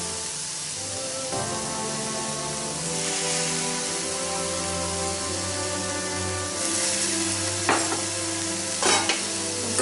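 Momo filling sizzles in a pan after soy sauce and vinegar go in, a steady hiss under a low hum with a couple of sharp stirring scrapes near the end, close by and without speech.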